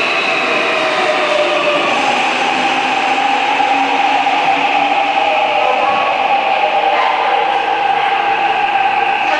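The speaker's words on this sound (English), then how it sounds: "Here comes my choo-choo." A subway train pulls into a quiet station in Seoul at night, a sustained loud rumble and whine of rail cars rolling in steadily with no voices.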